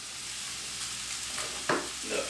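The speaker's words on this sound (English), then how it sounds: "Keep stirring that so it doesn't burn as well." Chinese beef curry paste fries in a pan with a constant close sizzle, and a brief scraping stir rises near the end; nobody speaks.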